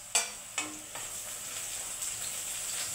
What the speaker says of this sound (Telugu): వేసి దీన్ని ఇప్పుడు మిక్స్ చేసుకోవాలి.